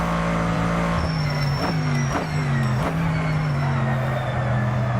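A GT2 race car in a video game laps Mugello, its engine droning loud and steady with several sharp upshifts and revs breaking the note along the way.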